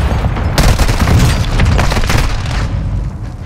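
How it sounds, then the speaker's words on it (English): A mortar strike in Warzone 2.0 lands as a loud, sustained burst of booming explosions and crackling blasts that rolls on for a few seconds before tapering off, with no talking. "Mortar strike inbound."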